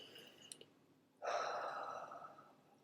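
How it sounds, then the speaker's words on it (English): A deep breath, a soft breathy exhale or sigh swelling up suddenly and fading over about a second and a half, close and quiet, after a few faint clicks. "just breathing, stopping to take deep breaths"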